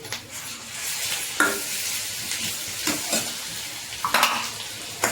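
Asafoetida and ginger-garlic paste sizzle in a hot pan with a steady frying hiss, broken by a few sharp bursts of spatter and the scrape and clink of stirring.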